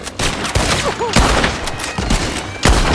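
Shootout gunfire in the video game Red Dead Redemption 2, a dense fusillade of loud, close shots with booming reports over a constant noisy battle background.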